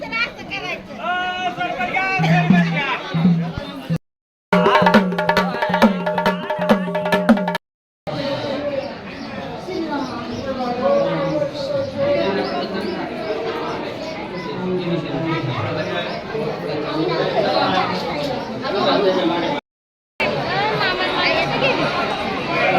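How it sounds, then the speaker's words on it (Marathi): Busy crowd chatter at a popular temple on a family trip, many overlapping voices and children forming a continuous babble, with a few brief dropouts and nearby people talking over it. "आज जाम गर्दी आहे पण."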